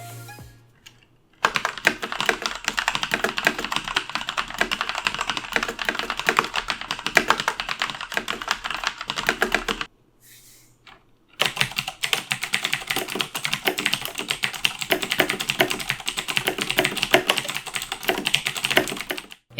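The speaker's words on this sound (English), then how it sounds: "here's a sound test so that you can hear what the Kailh black switches on a VM90 sounds like" Rapid typing on two mechanical keyboards, a Velocifire VM90 with Kailh Black switches and a Razer BlackWidow with Cherry MX Blue switches, heard as two dense runs of clicky keystrokes split by a brief pause, close and steady with no talking.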